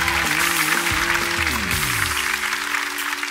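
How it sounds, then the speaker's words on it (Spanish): Studio audience applause on a Peruvian game show, steady and fairly loud throughout, while a sustained musical chord and shifting tones play underneath. "nosotros le damos el cariño de todo el público presente con este aplauso"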